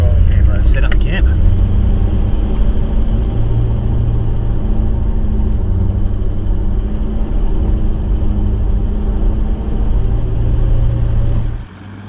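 A 4x4 vehicle driving at night through Victorian high country, with a steady low engine rumble and road noise throughout that cuts off abruptly near the end.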